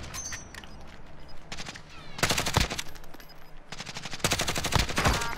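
Gunfire in the Call of Duty video game: loud bursts of rapid automatic shots cluster at the start, middle and end, with quieter single shots and battlefield ambience between them.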